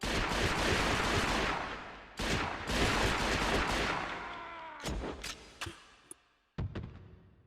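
Semi-automatic gunfire in the video game James Bond 007: Nightfire, a rapid run of loud shots merging into a dense stream, then a pause and several separate single shots with echoing tails.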